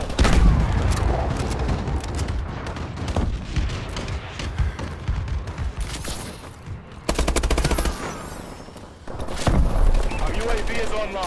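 Dense video game gunfire in a multiplayer match, with sustained automatic bursts and booms filling the whole stretch, briefly thinning before resuming loud, with game voice callouts mixed in.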